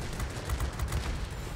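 A 57 mm cannon on a Ki-102 aircraft in World of Warplanes, firing as a steady run of heavy, thudding shots over constant engine drone, close and fairly loud for a brief stretch.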